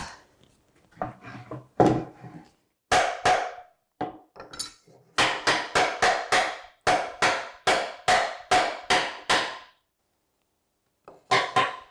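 Sharp wooden knocks from a bigger hammer striking a wooden furniture joint on a chest of drawers base, a few scattered taps then a steady run of about a dozen even blows, close and loud, with a pause before two more.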